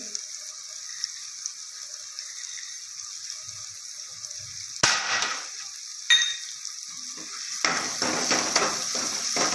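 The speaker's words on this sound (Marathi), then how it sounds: "व्यवस्थित मिक्स करत आहे" Poha with sugar and salt is stirred in a pan for Jain poha, a steady faint hiss broken by sharp scrapes and clatters of the spoon, then a louder, denser stretch of stirring, close and without talk.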